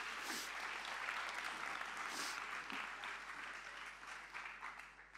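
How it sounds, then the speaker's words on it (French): A crowd claps in a dense, steady burst of applause at a live show, continuing throughout and tapering slightly toward the end. "Venez les gars, on les applaudit."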